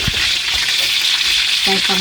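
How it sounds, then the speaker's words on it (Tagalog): Steady hissing sizzle of lunch frying in a pan, continuous throughout, with a few faint clinks and a brief tonal sound near the end. "Alas 12 na, nagpiprito pa lang."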